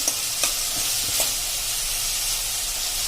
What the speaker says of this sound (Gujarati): હવે જો આપણા કાંદા પણ થઈ ગયા છે અને તેલ પણ તમે જુઓ છૂટ્યું છે.